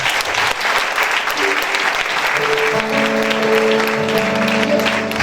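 A church congregation claps and cheers for the Lord in a steady, loud burst of applause. It fills the hall and carries on without a break, with some voices rising through it and a held musical tone coming in underneath.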